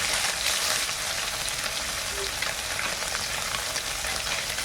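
Food frying in a pan at home, a dense, steady sizzle and hiss that stays even and close throughout with no talking.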